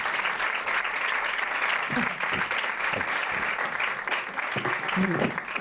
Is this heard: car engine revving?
no